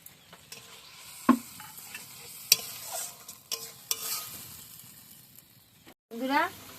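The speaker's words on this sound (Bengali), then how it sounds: "এবার আমি সর্ষেটা দিয়ে দেবো।" Mustard seeds hit hot oil for a sour and spicy fish curry, giving a soft, faint sizzle broken by a few sharp clinks of a stirring utensil against the pan.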